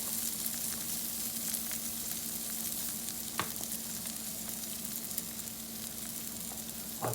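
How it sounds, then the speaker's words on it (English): Tomatoes sauté in melted butter with garlic in a pan, giving a steady close crackling sizzle with one or two sharper pops, and no voices. "I'm gonna let the tomatoes saute up a little bit until they get soft"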